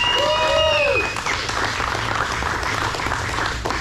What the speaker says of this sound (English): if we could have a big round of applause for the Horsepower Factory staff.